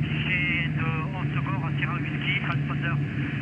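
A steady drone from a light airplane's engine in flight during a training session practising engine failures and sideslips, running continuously at moderate loudness beneath cockpit voices talking throughout.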